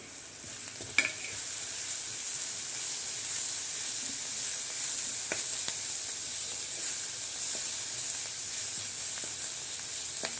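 Chopped onion frying in a pan with coriander, chili, garlic paste and turmeric, a steady bright sizzle with a few soft stirring clicks, close and no talking.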